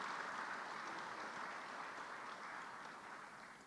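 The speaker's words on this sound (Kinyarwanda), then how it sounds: "Twongere tubashimire, tubahe amashyi menshi." Applause at a senate swearing-in ceremony for bureau members: a dense, steady roll of clapping from a large audience, fading slightly toward the end.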